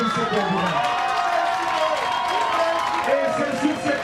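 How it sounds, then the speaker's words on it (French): A crowd of young people in Gabon applauds and cheers at an outdoor gathering, a dense steady mass of clapping and shouts lasting throughout, with a voice calling out over the noise. "applaudissez pour vous."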